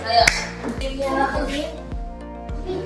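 Classroom pupils clap in an even, rhythmic beat, about two claps a second, with children's voices and chatter underneath.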